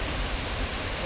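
Seljalandsfoss waterfall in Iceland in a snowy setting, a dense, steady roar of falling water filling the short stretch evenly.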